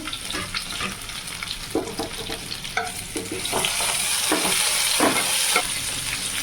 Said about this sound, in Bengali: পাঁচ ফোড়নটা একটু ফুটে আসবে তারপরে আমি লঙ্কা ফোড়ন দেব দেখতেই পাচ্ছেন রসুনটা দিয়ে দিয়েছি